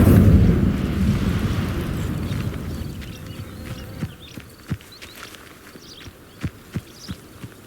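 The Incendio fire spell cast in the video game Hogwarts Legacy, a loud whooshing burst of flame that fades over a few seconds into scattered crackles and thuds.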